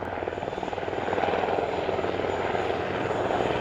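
Two helicopters fly together at a beach air show, a steady rumbling rotor drone with a rapid chopping pulse, moderately distant and rising slightly in loudness, with no voices.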